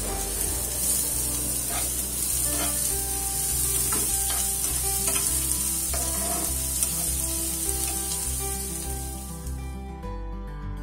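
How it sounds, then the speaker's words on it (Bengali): Chopped onion fries in a small amount of oil for Bengali rui fish kalia, giving a loud, continuous close sizzle with faint stirring clicks, no talk, easing off at the very end. "আমি সামান্য পরিমাণে একটু তেল দেব, দিয়ে পেঁয়াজটাকে আমি ভেজে নিচ্ছি।"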